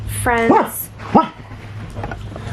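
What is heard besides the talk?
dog barking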